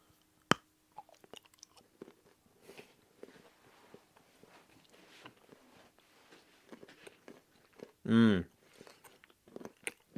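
Quiet, close crunching and chewing of a HU Crunchy Mint Dark Chocolate Bar in irregular bites, with soft mouth sounds and one louder hum-like burst near the end.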